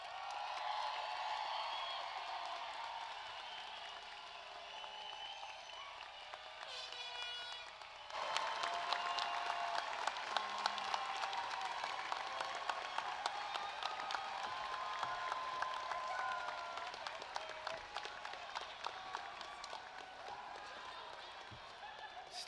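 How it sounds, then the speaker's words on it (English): Applause and cheering for graduates at the 2016 Rowan University College of Communication & Creative Arts commencement, heard as a crowd murmur that swells into dense clapping with scattered cheers and talk over it. "Let's have another round of applause for all of our graduates."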